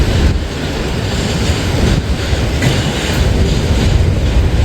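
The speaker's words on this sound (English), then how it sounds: "So that was a decent sized train." A freight train made up mostly of auto rack cars rumbles past close by, a loud, steady roar of rolling cars with faint rhythmic clatter and wind buffeting.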